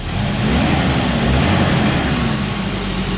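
A 1986 Volvo 245 wagon's 141-cubic-inch red block engine running, a loud steady mid-pitched hum with a slight rise in pitch, no voices over it.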